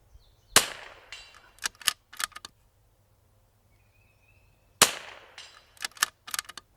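Two sharp, loud cracks from a precision rifle on an L3I Hyve chassis ring out outdoors several seconds apart. Each is followed by a cluster of quieter echoing pops and clicks, and quiet ambience fills the gaps.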